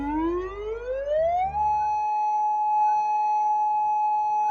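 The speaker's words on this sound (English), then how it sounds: "If you hear a siren, leave the beaches and harbor areas and get more information." West Coast tsunami warning siren: an electronic tone sweeps steadily upward, then holds as a loud, sustained high wail.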